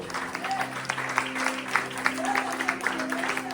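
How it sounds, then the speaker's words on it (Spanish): Church congregation applauds in scattered, uneven bursts of clapping, a loose roomful of hands over a sustained low hum from the sanctuary's sound system. "den un aplauso al Padre, al Hijo y al Espíritu Santo"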